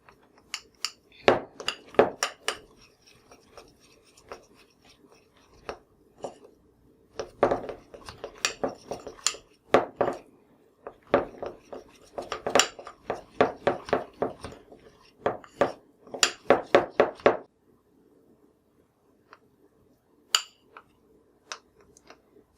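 Metal spoon stirring food coloring into icing in a bowl, a run of quick clinks and scrapes in bursts with short pauses, fading to occasional taps near the end.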